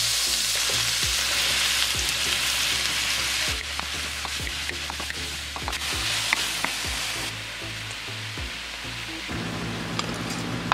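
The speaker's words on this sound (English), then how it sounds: "Gonna add a little bit more olive oil so I can throw my veggies in" Chopped veggies and garlic sizzle in olive oil in a pan, a steady close frying hiss broken by scattered clicks and scrapes of stirring, with no talk.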